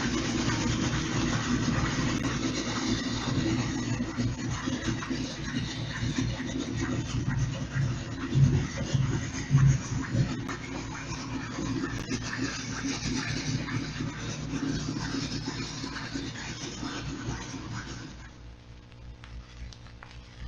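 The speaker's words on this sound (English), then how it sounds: "you'll hear an old American destroyer as heard on JP1." Old American destroyer traveling at 10 knots at 2,000 yards range, picked up underwater by sonar on a flat filter: a steady low churning rumble with rhythmic swishing and faint scratchy clicks through hiss, ending in quieter recording noise.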